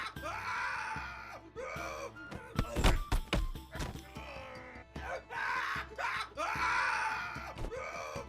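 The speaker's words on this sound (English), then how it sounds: "I don't want to hear this guy scream anymore." A character in the sword-fighting game Half Sword screams and groans in repeated drawn-out, anguished bursts, broken by heavy thudding impacts near the middle, loud and close with no talk over it.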